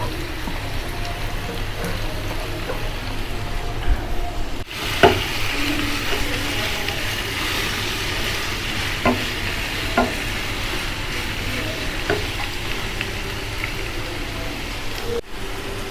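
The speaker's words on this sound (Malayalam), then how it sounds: "സവാളും കറിവേപ്പിൻ്റെലും തക്കാളിയും പൊരിച്ചിടാം" Onion, curry leaves and tomato frying in coconut oil, a loud continuous sizzle and crackle with a few sharp spatula taps against the pan.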